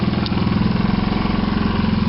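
A Kipor Sinemaster 6000 generator engine with auto throttle runs steadily close up, a loud, even, pulsing mechanical hum with a regular beat throughout and no talk.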